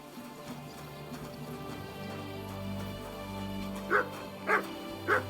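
A dog barks in the medieval game Kingdom Come Deliverance II, three short barks spaced about half a second apart near the end, over a constant low game ambience.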